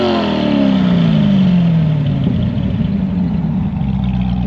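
A 2009 Chevrolet C6 ZR1 blips its exhaust up to a loud, close rev, and the pitch sweeps down as the engine falls back toward a burbling idle.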